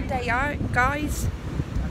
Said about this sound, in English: Really quite quiet on the beach today, but it's absolutely windy as you like.